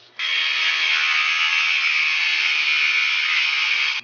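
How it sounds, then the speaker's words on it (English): Intake pipe for a Lexus IS300 (Altezza) being cut at a workbench, a steady loud grinding buzz that runs continuously for about four seconds and stops abruptly, with no talking. "cut that pipe I have to about 5 inches"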